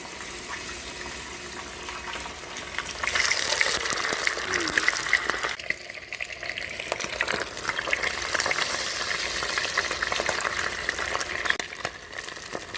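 Fish sizzles and crackles as it fries in hot oil in a home kitchen, a steady moderate hiss with a brief clatter as pieces go in, and a little background noise.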